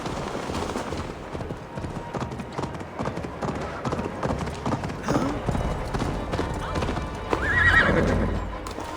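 Horses gallop and neigh in the Assassin's Creed Valhalla video game, with a steady clip-clop of hooves and a whinny near the end, under a voice and background game sound.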